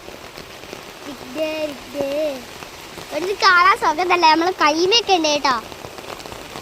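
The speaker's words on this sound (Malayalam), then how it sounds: "നല്ല മഴയല്ലേ" Rain falls steadily as a soft, even hiss beneath a person speaking nearby, who talks in short phrases over the continuous downpour.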